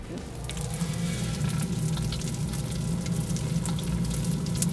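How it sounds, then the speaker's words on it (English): Slime reacting with activator gives off a steady, dense crackling sizzle much like bacon frying, close and continuous throughout with no talking. "Guys, listen to that sizzle. It's literally like we're cooking bacon or something."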